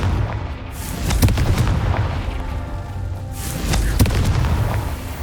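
The Confringo spell in Hogwarts Legacy sets off deep booming blasts with a sustained rumbling roar, loud and continuous, with two sharper impacts standing out from the din.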